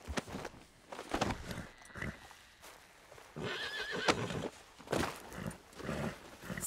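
A horse neighs and its hooves clop in Red Dead Redemption 2, with repeated whinnies and hoofbeats rising and falling across the clip, fairly close and moderately loud, over an outdoor game soundscape.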